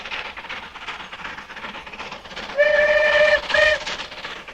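Steam locomotive whistle on the Settle and Carlisle line in the hills, two clear shrill blasts, the first longer, sounding over the rhythmic clatter of a moving train.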